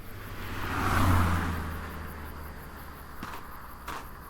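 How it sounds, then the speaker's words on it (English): In the horror game Butcher's Creek, a car whooshes past on a distant road behind a walker in the woods, swelling and fading within about two seconds, followed by faint night ambience and a couple of soft knocks. "you hear a car whiz past on the distant road behind you"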